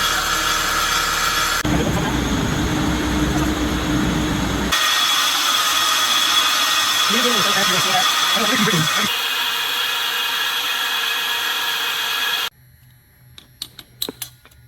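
An old rebuilt engine on a machine runs with a loud, steady droning roar that shifts in tone partway through, then cuts off abruptly, leaving faint clicks and knocks.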